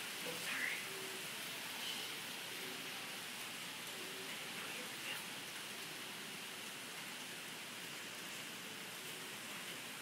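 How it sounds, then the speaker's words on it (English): Heavy morning rain falling steadily, a broad even hiss of drops on surfaces that never lets up, with faint quiet voices now and then underneath. "It's raining really hard this morning."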